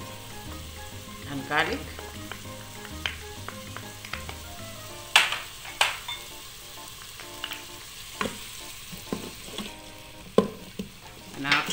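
Ginger and garlic sizzle hot in an electric pressure cooker, a steady close frying hiss with scattered pops and sharp stirring clatters, while a voice speaks briefly over it.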